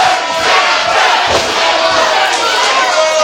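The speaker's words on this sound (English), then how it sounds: "The crowd is just chanting for Amber, but will it be enough?" A wrestling crowd at a Lakeside Slam match chants loudly for Amber Nova, a dense, continuous roar of voices with a thud partway through.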